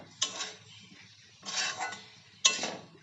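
A spoon scrapes and clinks in a pan while kalmi greens and spices are stirred, three short bursts of stirring with quiet gaps, close and fairly soft.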